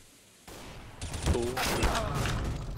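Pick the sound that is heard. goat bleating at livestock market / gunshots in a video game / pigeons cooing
gunshots in a video game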